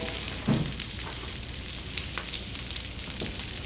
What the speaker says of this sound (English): now you're only going to saute this again for three minutes tops